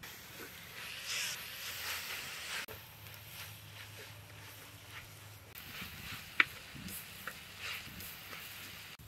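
Chopped onions sautéing in a pan for a village-style prawn curry, with a steady soft sizzle and intermittent stirring scrapes and one sharp click, all fairly quiet and continuous.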